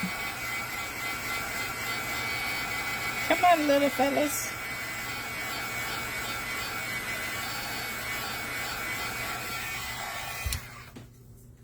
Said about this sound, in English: You're supposed to shake them. They have a mixing ball. You can hear that.